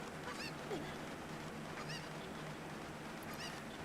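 Cucco chicken in The Legend of Zelda: Ocarina of Time squawking after being tossed: a few short honking clucks, repeated over steady background game noise.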